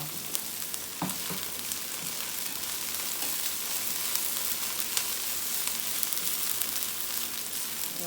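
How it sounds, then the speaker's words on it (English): Onions, green onions and garlic sauté in a pan for salmon fried rice, a constant loud sizzle and crackle with a few stirring knocks early on and no one speaking. "we sauteed our onions, our green onions, and our garlic"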